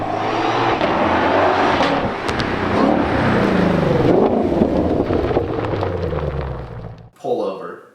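A stock 2020 Shelby GT500 is run at full throttle down a track, its engine roaring loud and rising with rough, booming exhaust bursts for about seven seconds. It cuts off abruptly, then a person speaks briefly.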